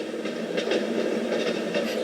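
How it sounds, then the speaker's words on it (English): A Dreamegg white noise machine plays its train sound: a continuous rolling rail rumble with soft, regular clickety-clack beats, even and moderately loud with no voices. "Train!"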